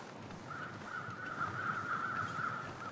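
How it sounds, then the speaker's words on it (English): Crows caw in the snowy wilderness of the survival game The Long Dark, a repeated series of faint, raspy calls at a moderate distance over low ambient wind, with no talk. "Alright, more crows."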